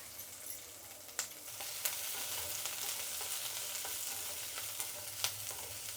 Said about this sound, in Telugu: దీంతో 1 స్పూన్ నూనె వేసి ఎర్రగడ్డలు వేయించుకుందాం